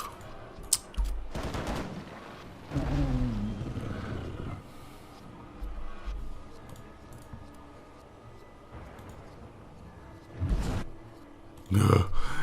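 Cannon fire in the Abandon Ship naval video game, several booming blasts spaced irregularly across the stretch, with a final pair of heavy shots near the end and quieter rumbling between.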